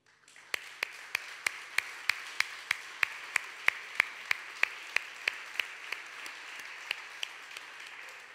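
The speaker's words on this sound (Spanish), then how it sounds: "Vamos a darle un aplauso a él." Rhythmic clapping in a church, a steady, even beat of sharp claps repeating about twice a second in unison over a soft background wash, fading toward the end.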